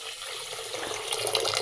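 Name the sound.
pouring water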